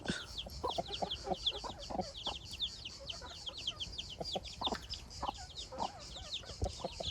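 Chicks peck at and eat cucumber, giving many small high peeps and cheeps, with scattered clucks from nearby fowl and soft tapping of beaks, all fairly faint and continuous.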